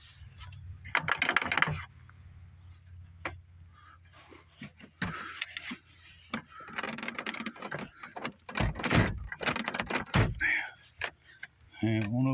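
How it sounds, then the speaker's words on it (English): Someone struggles with the stuck door of a rolled 2004 Chevy Silverado 2500HD, making repeated clunks, rattles and knocks in uneven bursts over about twelve seconds, with someone talking at times. "Wish the door would open up."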